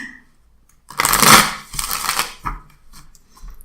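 Hanson-Roberts tarot cards being shuffled by hand in two or three quick riffling bursts, crisp papery flutters close by with short pauses between, no voices.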